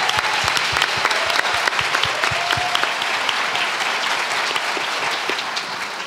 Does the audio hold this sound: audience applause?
yes